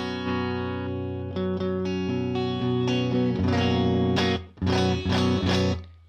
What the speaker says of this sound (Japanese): まあ、こういう綺麗なクリーントーンが出るって感じですかね。